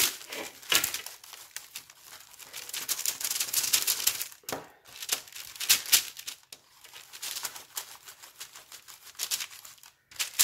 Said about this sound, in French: je me suis installée sur un papier de cuisson, ça va faire du bruit